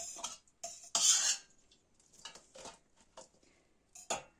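Boiled golden thistle stalks (Scolymus hispanicus) being cut into fork-sized pieces, with a handful of irregular close knife-on-board taps and clinks separated by short quiet gaps, with one louder scraping burst near the start.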